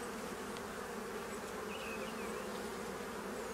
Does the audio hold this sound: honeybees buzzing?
yes